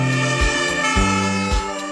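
Fire engine siren from the Bruchsal fire brigade, a loud blaring tonal wail with deep horn-like blasts pulsing about three times in two seconds, close and without talk.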